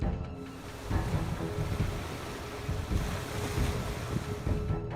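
Ocean waves wash onto a beach where a kangaroo swims in the surf, a steady broadband roar with periodic surges and gusty wind buffeting the microphone, no voices.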